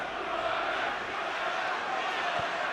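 A dense crowd roars in reaction at a Swindon Town vs Chelsea football match, a sustained wash of massed voices filling the stadium at steady loudness.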